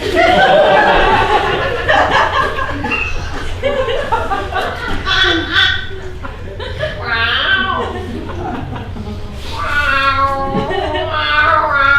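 A man on stage at an improv comedy show mimics a cat with drawn-out meows, loud and close, mixed with his talk and audience chuckles.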